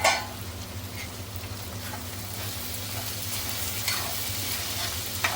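Cluster beans being stirred in a pan, a steady soft sizzle and scraping for about five seconds, with a few faint clinks of the spoon and no talking.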